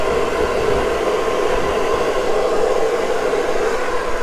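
Hair dryer blowing a classic bob dry while a paddle brush works through it, a loud, steady whooshing airflow close by with slight fluctuations and no talking.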